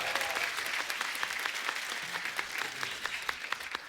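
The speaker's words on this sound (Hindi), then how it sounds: "जोरदार तालियां जीतू जी के लिए" A television comedy studio audience applauds loudly as a guest arrives: steady, dense clapping from many hands that holds level from start to finish, with no talk over it.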